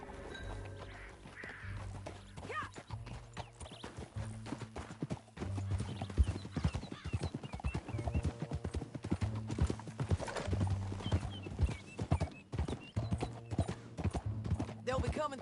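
Horse hooves clip-clopping at a steady gallop in the Western video game Red Dead Redemption 2, with a brief whinny, over a bed of game music and occasional talk.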